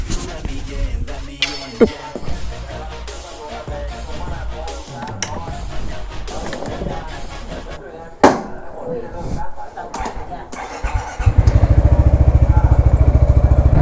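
A new Yamaha X-Max scooter's engine runs while it is ridden. It is a rough, chopping motor sound mixed with wind and handling noise, and it swells into a loud, steady low drone near the end.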